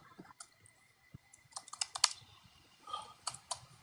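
Rapid clattering keystrokes on a computer keyboard come in a quick irregular burst, faint at first and then louder and denser.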